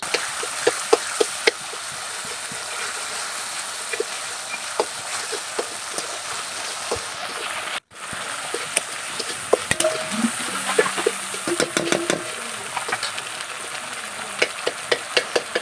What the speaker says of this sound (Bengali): আমি হালকা একটু পানি দিয়ে মশলাগুলো কষিয়ে নিই